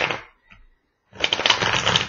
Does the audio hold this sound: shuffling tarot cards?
yes